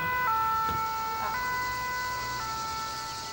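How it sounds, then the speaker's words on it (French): An ambulance siren sounds at a distance during a summer of wildfires, its steady wailing tone lasting throughout with faint traffic noise underneath and no talking. "Non, c'est l'ambulance."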